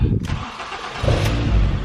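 Ford Fiesta ST engine starting: a brief cranking burst followed by the engine catching and settling into a loud, rough idle close by, with a voice speaking over it.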